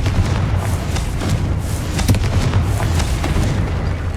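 A Confringo fire spell in Hogwarts Legacy goes off as a dense, sustained rumbling blast with crackling bursts layered on top, loud and close, filling the whole few seconds.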